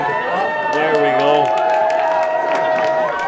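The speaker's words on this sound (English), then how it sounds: "they give him a nice round of applause" A crowd applauds and cheers in the stands at a high school football game between Webster Area and Redfield, with steady clapping and voices carrying throughout.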